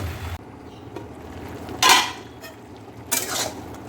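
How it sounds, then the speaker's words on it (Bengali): Fresh mint leaves and garden greens are stirred in a small wok, giving two loud scraping strokes over a low, steady cooking hiss. "এবারে দিয়ে দিচ্ছি পুদিনা পাতাগুলো সেগুলো এবার একটু নাড়িয়ে দিচ্ছি"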